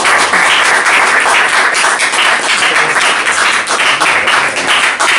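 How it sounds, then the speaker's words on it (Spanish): Audience applause at a book talk in a forestry-themed cultural space, a dense, loud, steady burst of clapping that carries on for several seconds. "Un aplauso."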